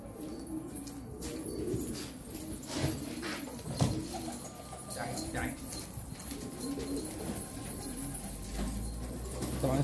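Pigeons, a male close to a female, giving soft repeated cooing throughout, close and moderate under a voice talking at intervals.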